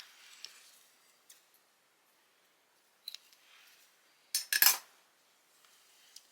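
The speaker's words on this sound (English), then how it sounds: "this is where you can break your yarn or snip your yarn" Scissors snip yarn during sock knitting, a few faint, close clicks and one sharper double cut amid quiet.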